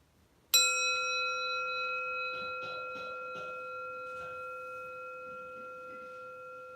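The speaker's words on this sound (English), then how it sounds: "it is a pretty rad bell" A temple meditation bell is struck once, sounding a loud, clear tone whose harmonics ring on and decay slowly, with faint room noise and light movement underneath.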